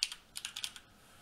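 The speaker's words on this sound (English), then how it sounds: "if you go in here and actually type in smart list" Quick burst of computer keyboard typing, several close crisp key clicks in an uneven rhythm, then a short quiet pause, with no talking.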